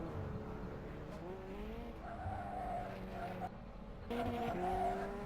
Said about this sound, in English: And the Slacko very struggling with the tyres here. Just sliding all over the place.